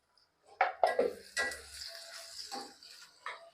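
Onion and capsicum fry in a pan with a soft, steady sizzle, broken by a few sharp scraping and clinking stirs near the start. The sound stays faint and close throughout.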